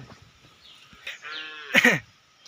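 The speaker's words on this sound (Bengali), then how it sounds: "দেখছেন কত বড় বড় সাইজের গরু, দেখেন শিং টিং কত সুন্দর লম্বা।" At a Qurbani livestock market, a bovine call rises briefly, then a louder, harsher bellow bursts out close by before fading, over a quiet outdoor backdrop with a few knocks.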